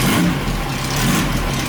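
A car engine cranks and revs, a loud close rumbling drone that swells and eases over a couple of seconds, with no voices.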